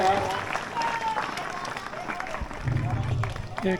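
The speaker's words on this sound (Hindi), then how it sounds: "मंच पर आए सोनू कुमार, जोरदार तालियों के साथ इनका स्वागत करें।" Applause at an Independence Day school function welcomes a student onto the stage: continuous crowd clapping, fairly loud and dense, with voices and crowd murmur underneath.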